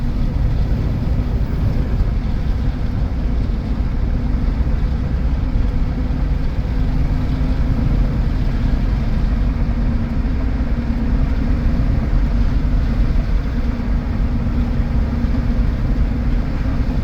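A 2004 Chevy Avalanche truck cruises along a road, its engine and tyre drone a steady, loud low rumble from inside the cab that holds constant throughout, with no one speaking.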